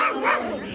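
A pitbull-type dog gives one short bark-yip indoors in a house, loud and close, alone.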